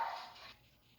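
A recorded dog bark played through an Alexa smart speaker as a joke song, one short, slightly tinny bark that quickly fades.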